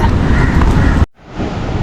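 Strong waves break on Kovalam beach. The surf roars loudly and close, mixed with heavy wind buffeting, and cuts out briefly before resuming.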